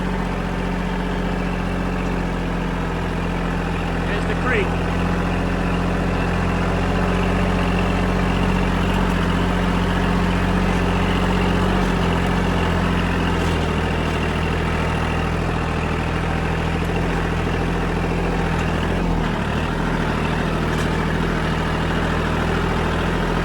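A tractor engine runs steadily while driving along a farm trail near a creek and ditch, a loud continuous low drone with rattles and bumps over the ground, and a brief voice comments once.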